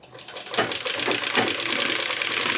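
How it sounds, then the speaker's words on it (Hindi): Sewing machine stitching seams on a boy's Pathani kurta pajama, a fast steady whirring run that starts after a brief pause and holds close and loud for about two seconds, alone without talk. "ये देखिए ऐसा मारते सिलाई, और इसका साइड में भी एक सिलाई मार देगा ऐसा ही।"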